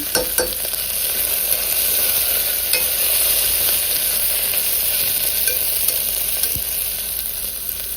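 Fenugreek seeds fry in a hot pan with a constant, dense sizzle that holds steady throughout, accompanied by occasional light scrapes of stirring.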